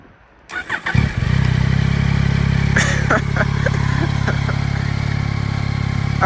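A Yamaha Tracer 9 motorcycle engine cranks and catches after a short quiet start, then settles into a steady, close, loud idle with a few faint clicks and handling sounds over it.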